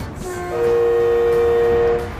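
An East Coast passenger train runs loudly along the line, its steady rumble joined midway by a long sustained horn blast that holds for about a second and a half before fading back into the running noise; no talking.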